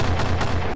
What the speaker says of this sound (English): The damn robot's got a laser cannon!